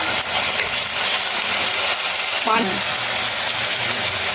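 Water is added to ginger-garlic paste frying in a pan for a catla fish curry, producing a loud, steady, close sizzle and hiss that runs throughout, with a brief voiced sound partway.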